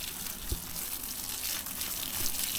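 Water pours steadily over tomato plants in a garden bush on a hot day, a continuous close gushing hiss with a soft thump early on.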